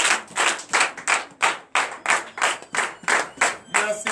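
A church congregation at a Sunday worship service in Comè, Benin, claps in acclamation to Jesus: about a dozen loud, evenly spaced group claps in a steady rhythm, close and full, with no talking over them.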